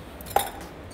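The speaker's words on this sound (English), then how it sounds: "add a nice block of ice in our glass" A block of ice is set into a cocktail glass while a red velvet cupcake cocktail is made, giving a single short, close glassy clink against quiet room tone.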